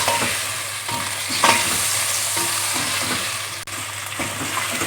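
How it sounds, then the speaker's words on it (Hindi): Chicken sizzling in a pan with fried garlic ginger paste, a constant close hiss of frying with periodic stirring scrapes and clinks, steady and moderately loud, no voices. "अब मैं इसमें चिकन ऐड कर दूँगी और इसको भी अच्छे से भून लूँगी मैं"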